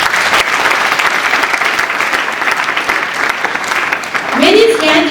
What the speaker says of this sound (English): Let's welcome each other with a round of applause